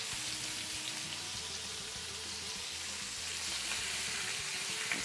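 Chicken pieces for tacos sizzle steadily in a hot pan, a continuous close frying hiss with soft crackles and no talking.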